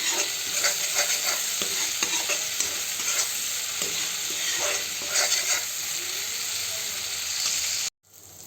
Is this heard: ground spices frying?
yes